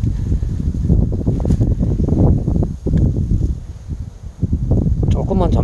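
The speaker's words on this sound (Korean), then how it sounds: "바람이 너무 많이 부네요" Strong outdoor wind buffets the microphone in heavy, continuous low rumbling gusts, with a person talking throughout.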